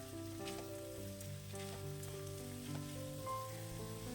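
Bottle gourd and lentils sizzle in a hot pan with faint frying crackle while a utensil stirs and scrapes through them, and a steady tonal hum sits underneath.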